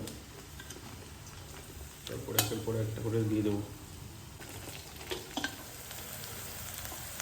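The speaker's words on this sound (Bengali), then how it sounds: "তো যে আদা রসুন কুচি করে রেখেছিলাম এটা জাস্ট হালকা করে ভাজা হবে" Chopped ginger and garlic fry lightly in a pan for chilli chicken, a steady soft sizzle running throughout with a few stirring scrapes and clinks, while a person talks over it.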